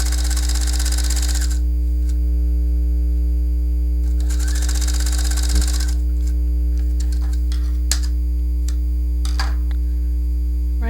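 A sewing machine stitching blouse fabric in two short bursts of steady, buzzing stitching, under a constant strong mains hum, with quiet handling noises between the bursts.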